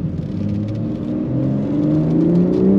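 BMW M4 Competition, a 2022 model, revving under throttle with a steady low engine drone that climbs in pitch and grows louder, heard from inside the cabin.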